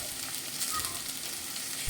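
Mashed taro leaf paste sizzling and frying in a pan as it is stirred, a steady close crackle with a scrape of the spoon near the end.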